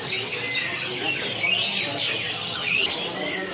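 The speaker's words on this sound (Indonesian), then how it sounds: "di sini ada burung anis trotolan atau anis anakan" Anis trotolan thrushes at a kiosk in Pramuka bird market chirp and warble continuously, a dense chorus of overlapping high calls and trills close by with market bustle underneath.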